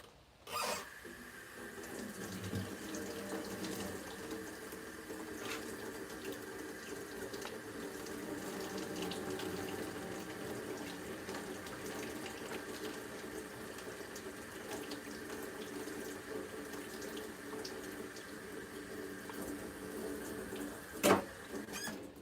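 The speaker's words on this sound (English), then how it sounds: "I just want to drain my little noodles" Cooked noodles drained in a kitchen sink, a steady rush of running water pouring for about twenty seconds at moderate level, with a sharp knock near the end.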